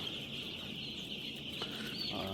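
Three-day-old baby chicks on a poultry farm peep and chirp continuously in a high, busy chorus with a few louder calls. The sound is faint and distant, with no talking.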